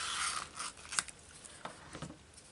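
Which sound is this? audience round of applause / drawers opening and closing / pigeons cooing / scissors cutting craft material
scissors cutting craft material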